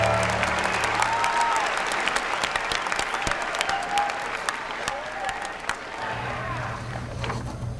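A crowd claps and cheers at PlayStation Experience 2015, dense sustained applause that begins loud and tapers slightly, with a few scattered whistles and shouts and a low hum returning near the end.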